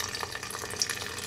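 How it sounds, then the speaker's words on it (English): Cold water poured from a cup onto powdered gelatin in a mixing bowl, a soft steady trickle and splash, close and fairly quiet, with no talking. "I'm going to add 1/2 cup of cold water to that."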